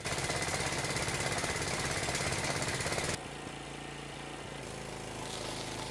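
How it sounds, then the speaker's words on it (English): A 1000 watt generator strains under a maxed-out welder with a loud, rough, pulsing engine drone. The tone drops and the load eases partway through. "Take a listen when I actually max this welder out. Your generator should not be hopping around like this."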